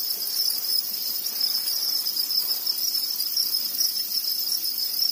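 Thai field crickets kept in breeding trays chirp in a dense, continuous high-pitched trill that stays steady and fairly loud throughout.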